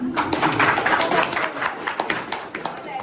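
A seated audience claps at a trust's calendar launch ceremony in Tala, Maharashtra, producing a dense, steady patter of many hands that runs throughout, with voices faintly mixed underneath.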